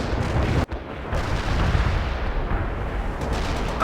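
A World in Conflict artillery strike lands as a continuous roaring barrage of heavy booms and rumbling blasts, loud and dense throughout, broken only by a brief dip near the start.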